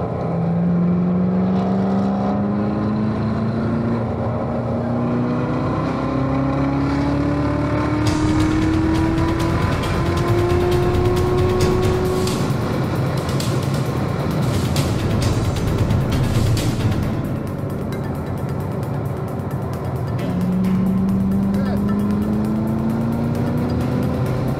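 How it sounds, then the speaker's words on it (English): Race car engines roar at the start of a race at Watkins Glen, several cars rising in pitch as they accelerate and pass, loud and continuous with crowd and track noise beneath. "Drivers, start your engines!"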